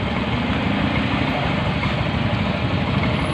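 A Yamaha Mio M3 125 scooter engine idles in a steady, even drone, close and constant, with no talk over it.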